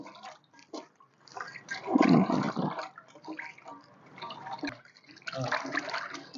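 Water sloshes and splashes in a container as fresh fish and prawns are rinsed by hand, in uneven bursts, close and moderately loud, with occasional talk.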